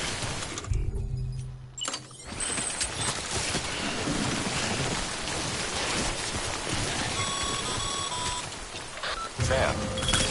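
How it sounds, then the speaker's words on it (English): Timefall rain in Death Stranding, a steady broadband hiss of downpour that runs continuously after a short quieter opening, with faint electronic tones layered over it. "Don't stay out in the rain any longer than you have to."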